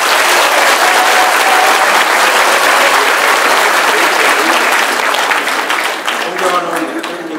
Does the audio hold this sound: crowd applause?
yes